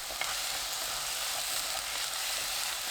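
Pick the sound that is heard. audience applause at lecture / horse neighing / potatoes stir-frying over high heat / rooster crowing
potatoes stir-frying over high heat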